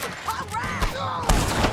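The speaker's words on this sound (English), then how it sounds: "Let's just start shooting." Rapid bursts of gunfire in a Red Dead Redemption 2 shootout crackle over a busy background, with a sharp volley near the end.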